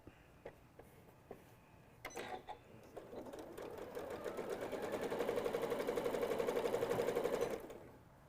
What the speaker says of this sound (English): we're sewing just to that black mark and back stitching